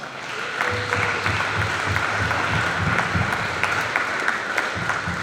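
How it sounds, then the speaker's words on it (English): A graduation ceremony audience gives a staff member a round of applause, a sustained wash of many hands clapping at a steady, full volume from start to finish. "Let's give her a round of applause."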